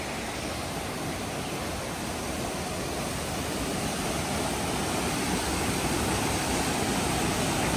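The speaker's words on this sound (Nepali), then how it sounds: "झर्नाको पानी हो ल है त" Waterfall on the Gosaikunda to Suryakunda hiking trail in Nepal, a steady, dense roar of falling and rushing water close by that fills the whole stretch without pause.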